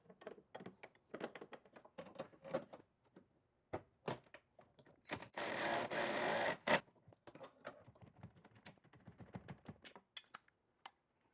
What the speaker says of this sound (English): We're going to take our 15/16 socket and wrench and go ahead and tighten the one here at the lowest point.